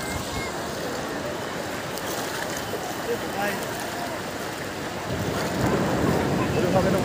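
Sea waves rolling onto Puri beach in Odisha, a steady broadband wash with wind buffeting the microphone, growing louder toward the end as the surf comes closer.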